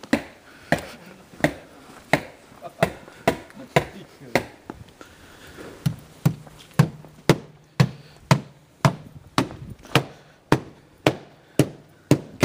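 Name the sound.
worker installing stonework on a house wall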